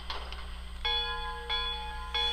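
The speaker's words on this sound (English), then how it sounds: "Now, out of the package, the bell defaulted is our heavy brass bell number 3." Heavy brass steam locomotive bell, sound number 3: three clear metallic rings at a medium, even pace, each sustaining bright overtones, loud and close over a steady low hum.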